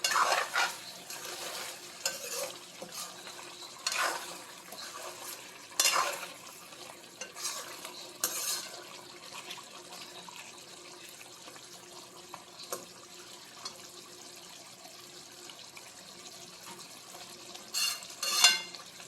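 Quiet sizzling of chicken frying in a pan with intermittent scraping and stirring strokes, a soft steady fry underneath and occasional louder clatters of a utensil.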